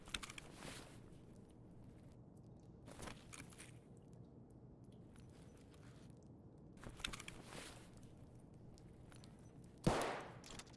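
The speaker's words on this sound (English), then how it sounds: "I'm hearing gunshots" Distant gunfire echoes in a few separate bursts across a quiet in-game environment in Escape from Tarkov, faint and far off, with a sharper crack near the end.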